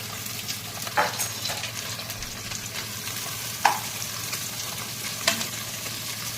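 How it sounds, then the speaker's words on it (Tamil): Mustard seeds, shallots and curry leaves frying in hot oil, a close continuous sizzle with a few sharp pops and stirring scrapes, no voices. "எண்ணெய் காஞ்சதும் கடுகு போட்டுடலாம். சின்ன வெங்காயம் போட்டுடலாம். கருவேப்பிலையும் போட்டுடலாம்."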